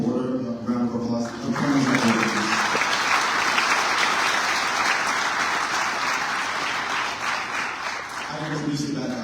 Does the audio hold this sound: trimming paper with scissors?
no